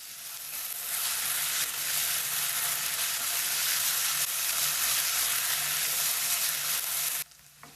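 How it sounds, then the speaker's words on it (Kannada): An okra mixture fries in a pan over a high flame, a loud, dense, steady sizzle that runs continuously for several seconds before cutting off abruptly near the end. "ಚೆನ್ನಾಗಿ ಫ್ರೈ ಮಾಡಬೇಕು. ಫ್ಲೇಮ್ ಸ್ವಲ್ಪ ಹೈ ಮಾಡ್ತೀನಿ."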